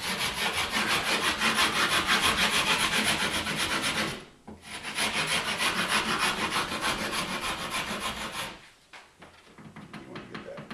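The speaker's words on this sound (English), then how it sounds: "I'm just taking the rasp" A rasp is worked along a wooden edge on a bench, rounding it over at a 30-degree angle. Loud, close, rhythmic scraping strokes run in two long bursts, separated by brief pauses.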